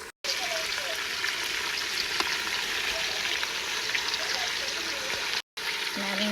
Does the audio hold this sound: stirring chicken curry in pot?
yes